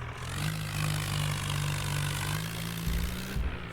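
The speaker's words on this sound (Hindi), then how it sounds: "जल्दी ही ट्रैक्टर पे बैठ भी जाता हूँ और ट्रैक्टर को खेत से" A tractor engine driving in the Indian Vehicle Simulator game, a steady low drone with a buzzing tone, even and moderately loud, with a brief dip near the end.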